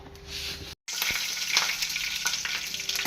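Mustard seeds crackle and sizzle in hot oil in a pan, a dense close frying hiss with a brief break near the start, no talking.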